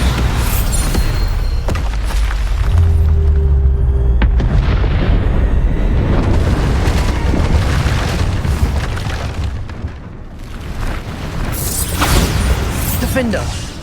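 Bombarda blast spells in Hogwarts Legacy go off as heavy booming explosions, one after another, with a loud rumbling low end filling the whole stretch and brief lulls between blasts.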